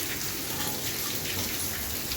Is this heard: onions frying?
no